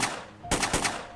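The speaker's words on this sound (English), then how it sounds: "I'm shooting." Gunfire in the DayZ video game, three sharp, loud shots in quick succession over low background noise.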